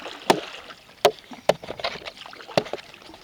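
Kayak paddled down a river, with a handful of sharp splashing paddle strokes spaced irregularly over light water noise, close and fairly loud, no talk.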